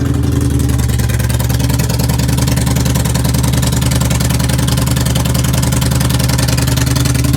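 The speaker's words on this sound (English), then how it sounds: "I want to see what it sounds like because it's only got an open exhaust" A Yamaha SCR950 motorcycle with an open exhaust idles steadily in neutral, a loud, close, continuous low rumble with a fast, even pulse running unbroken throughout.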